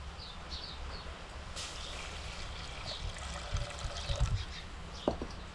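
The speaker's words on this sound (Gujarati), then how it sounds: "હવે આપણે થોડુંક પાણી નાખી દઈએ" Water poured into cooked masala for butter masala dhokli makes a soft, steady trickle into the pan, low and close, with a few slightly louder splashes near the end.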